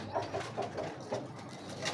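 High-flyer pigeons coo in a steady series of soft, throaty calls, repeating every half second or so at close range with no talking.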